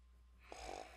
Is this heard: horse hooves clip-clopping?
no